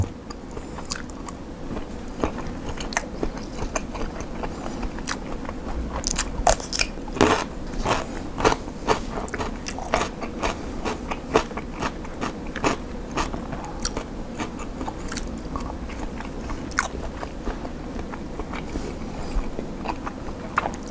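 Someone bites and chews steamed herbal meatballs made with beef and pork tendon, giving close, steady crunchy chewing sounds with frequent small crackles, and nobody speaks.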